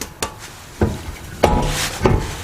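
Hammer knocking a steering tie rod loose while replacing a steering knuckle: four sharp metallic blows, spaced irregularly about half a second apart, close and fairly loud with a faint hum between strikes.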